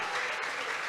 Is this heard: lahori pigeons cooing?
no